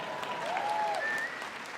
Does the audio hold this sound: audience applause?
yes